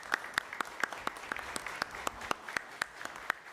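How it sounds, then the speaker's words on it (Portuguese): A room of people at a Masonic Day tribute gives a round of applause, with sharp individual claps standing out over a steady wash of clapping throughout. "Vou pedir uma salva de palmas pela leitura."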